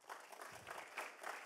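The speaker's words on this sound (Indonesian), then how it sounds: "Tepuk tangan dong untuk Tuhan" A congregation claps for God during an Easter church service, faint scattered applause rising and falling in waves from a distance.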